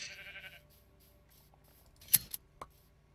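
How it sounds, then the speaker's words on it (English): A Minecraft sheep in the SevTech Ages modpack gives a short, faint bleat, followed by a couple of crisp snips from shears clipping wool, all in a quiet game scene. "go and see Sonny the happy sheep"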